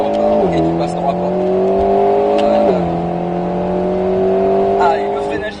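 An Alpine A110 S accelerating hard around a race circuit, the engine note climbing in pitch, dropping at two gear shifts, then climbing again, loud and close, with a voice speaking over it.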